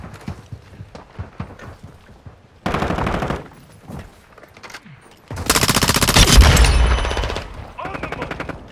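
Bursts of automatic gunfire in Call of Duty Modern Warfare 2, with rapid rattling volleys, a long heavy barrage near the end and scattered single shots between them.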